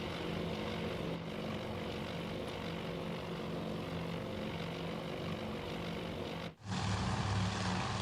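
Torpedo bomber propeller engines from the naval combat game Task Force Admiral drone loud and continuous, then cut off sharply and resume with a slightly different engine tone.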